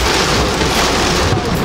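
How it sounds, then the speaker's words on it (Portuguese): Heavy rain and strong wind beat on a car, a dense, loud, continuous roar with no pauses, heard from inside the vehicle. "A chuva tá forte, vento forte."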